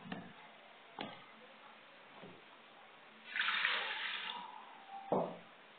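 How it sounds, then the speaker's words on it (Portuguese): Half a glass of water is poured for a homemade hair tonic, a short splashing stream in the middle, framed by a few light clicks and knocks of a container. "Vou colocar meio copo d'água."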